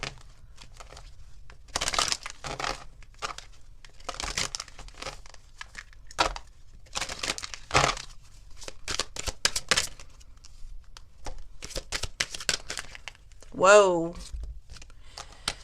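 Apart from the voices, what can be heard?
handling and shuffling oracle cards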